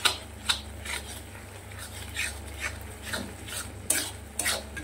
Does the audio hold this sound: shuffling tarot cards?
no